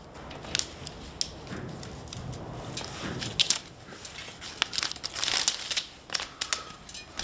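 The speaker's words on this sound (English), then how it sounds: "So all we've got to do is take this rim tape off." Rim tape being peeled off a bicycle wheel rim makes close, crackling, crinkly tearing sounds with scattered sharp snaps that grow busier toward the end.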